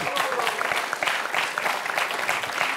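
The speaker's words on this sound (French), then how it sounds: "Oui, allez, on l'applaudit, Stéphane" A studio audience at a French television quiz show claps in a brief, lively burst, the clapping dense and even with a faint pulse of rhythm throughout.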